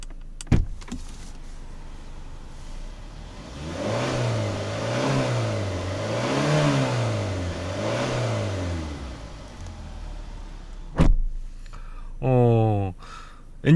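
A Kia K8 2.5 four-cylinder GDI engine revs up and down in several smooth, rising and falling swells, heard from outside the car, followed by a few clunks and a short whirring power window.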